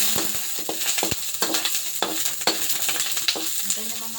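Sliced onions sizzle loudly in a little hot oil for chicken adobo, a constant frying hiss punctuated by scattered clicks and scrapes of a utensil stirring the pan.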